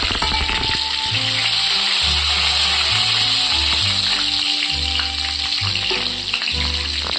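Two dried chillies, bay leaf, two green chillies and whole cumin sizzling in hot oil in a pan, a loud steady crackling fry, close up, with low rhythmic bumps underneath throughout.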